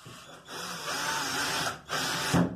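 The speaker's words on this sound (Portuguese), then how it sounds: "Bora lá, vou parafusar essa aqui." A power screwdriver drives a screw into a PVC ceiling panel, whirring in two close bursts separated by a brief pause and ending with a soft thud, with no talking.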